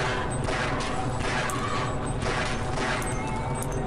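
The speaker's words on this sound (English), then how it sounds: "I'm getting shot from somewhere." Half-Life video game combat with continuous dense gunfire and crashing impacts, a loud unbroken barrage of rapid shots and smashes with no pauses.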